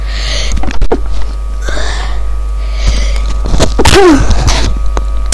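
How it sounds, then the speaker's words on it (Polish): A single sharp sneeze bursts out near the end, preceded by a few sniffs and breathy inhales close to the microphone, over a low steady hum. "Kichać mi się zechciało."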